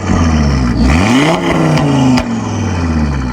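An Audi RS3 engine revs loudly in dynamic mode, rising and falling through several sharp pulls with a steady rumbling idle between them, close up and alone.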